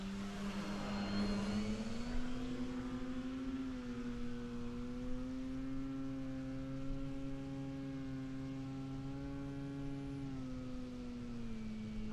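An RC aircraft hovers under a large propeller, with a 13x8 three-blade or 14x8 two-blade Master Airscrew prop on a Super Timber plane, giving a steady droning hum that rises and falls slightly in pitch throughout.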